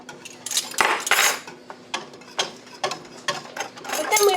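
A spoon stirs a spice mixture in a bowl, giving repeated clinking and scraping knocks in an uneven rhythm, close and fairly loud.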